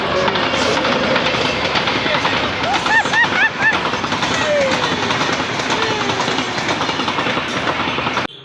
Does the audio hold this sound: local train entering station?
yes